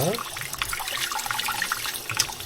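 Hot noodles being rubbed and rinsed in cold water at a sink, with steady running tap water and wet splashing and swishing throughout, while a person talks over it.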